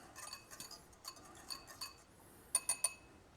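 Spoon or whisk clinking against a bowl while chive oil is stirred, a series of light, close metallic and glassy taps, a quick cluster near the end.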